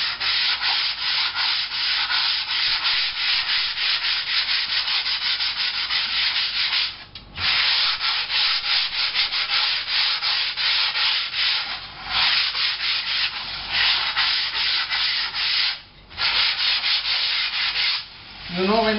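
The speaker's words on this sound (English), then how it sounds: "when the sanding is done" Steady rhythmic sanding of soft foam, a continuous scratchy rubbing with a few brief pauses, close and moderately loud, no talking.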